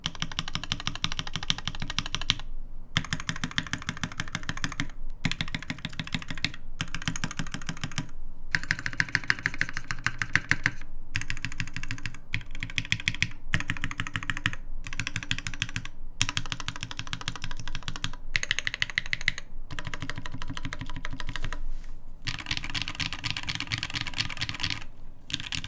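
Rapid, clacky typing on a NovelKey Silk mechanical keyboard build in continuous bursts with brief pauses, close up and fairly loud.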